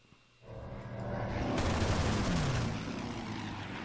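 Strafing gunfire in a WW2 Burma Road game, a loud dense rattle of rapid shots that starts abruptly and rolls on as a continuous burst.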